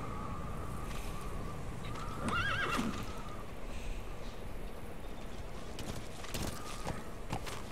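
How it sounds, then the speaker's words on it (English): Horse in the video game Metal Gear Solid 5 gives a loud, close whinny partway through, set against steady clip-clop of hooves walking, with ambient game sound filling the background and no talking. "So we're gonna need a horse."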